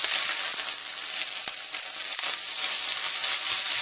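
Onions for special fried rice frying in a pan, a constant close hiss and sizzle with faint clicks and scrapes scattered throughout.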